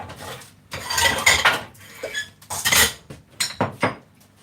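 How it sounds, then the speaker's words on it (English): A metal frying pan clanks and scrapes in several uneven bursts, with short pauses between the knocks and rattles, close by. "I've got to prep"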